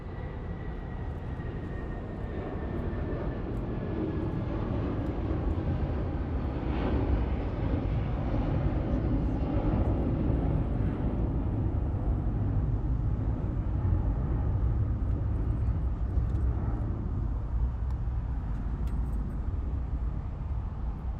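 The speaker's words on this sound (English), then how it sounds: "Just grab this United 757 takeoff for you guys" A United Boeing 757 taking off at Los Angeles International Airport, a loud sustained jet engine roar with deep rumble and a falling whine, steady and powerful throughout without any talk.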